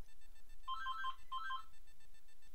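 A telephone rings in two short bursts of bright electronic trills, each about half a second long with a brief gap between them, over a quiet background with no talking.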